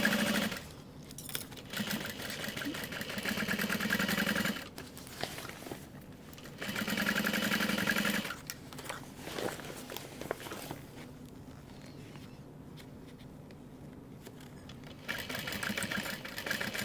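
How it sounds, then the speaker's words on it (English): Sewing machine basting tote bag pieces together, running in steady bursts of rapid stitching separated by short pauses, close and clear with no talking. "And we are basting all of this together."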